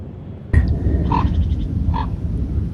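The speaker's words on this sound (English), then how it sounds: "That's a raven." A raven calling outdoors on a moody, rainy day, two short hoarse croaks about a second apart, moderately distant, over low rumbling wind noise.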